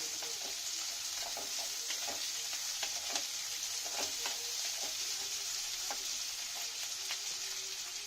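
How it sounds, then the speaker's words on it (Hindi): Chopped capsicum sizzles steadily in a hot pan for a chilli potato dish, with a constant bright frying hiss and repeated scraping clicks of stirring throughout, close and continuous with no talking. "अब हम इसमें हमारे कैप्सिकम डालेंगे जो हमने पहले से काट के रखे हुए हैं थोड़े से। थोड़े में चलाते रहे।"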